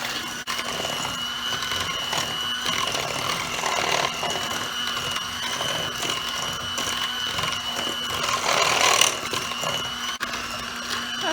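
An electric mixer blends zucchini chocolate chip brownie ingredients with a continuous whirring motor hum and a steady tone, loud and close, with grinding texture that swells slightly near the end.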